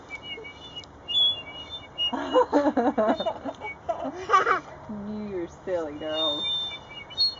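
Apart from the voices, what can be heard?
child blowing a toy whistle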